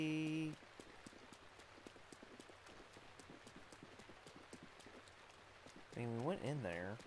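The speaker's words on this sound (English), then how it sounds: "It would be lovely if the rain would stop." Steady rain patters in Zelda: Breath of the Wild, a dense even hiss of drops with light rhythmic ticks throughout, while short tonal game sound effects play at the start and end.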